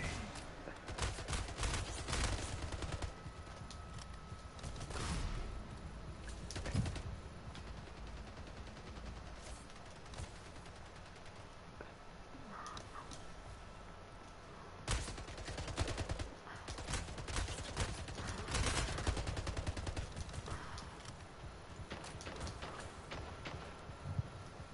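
Rapid bursts of automatic gunfire from the video game Splitgate crackle and stutter through a busy match, with sharp repeated shots loud and close, broken by short pauses and steady background game noise.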